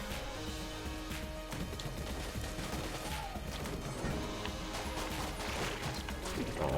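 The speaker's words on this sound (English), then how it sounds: "The junk on the wall there absorbed like all of my shots." Rapid gunfire in the game Enter the Gungeon, a steady dense clatter of shots and impacts with crashing debris, loud and continuous throughout.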